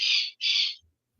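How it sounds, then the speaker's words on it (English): Pet birds calling indoors: two loud, shrill bird calls close by, one right after the other, then quiet with a faint low thump at the end. "I can hear your birds. They are happy."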